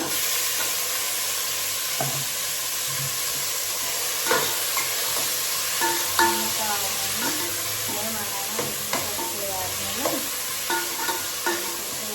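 Tomatoes go into a pan of browned onions for tomato sambar and sizzle steadily while a spoon stirs, scraping and clinking at irregular intervals, close, with brief talk beneath.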